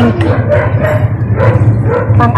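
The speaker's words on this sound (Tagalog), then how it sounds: "May aso, nakatali." A tied-up dog barks and yips repeatedly, loud and close, in short excited bursts with a whining edge.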